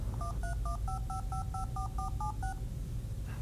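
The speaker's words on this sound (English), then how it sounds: "Newton looks up the phone number, displays it, and even dials the phone." Touch-tone dialing from an Apple Newton placing a phone call: about ten quick, evenly spaced DTMF beeps, clear and close, with no talking.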